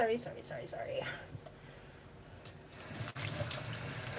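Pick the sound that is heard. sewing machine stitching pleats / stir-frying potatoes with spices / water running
water running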